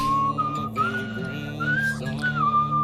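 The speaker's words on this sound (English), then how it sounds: "let's keep whistling on" A player character in the video game Where the Water Tastes Like Wine whistles a wandering tune over a backdrop of game music, the melody loud and continuous throughout.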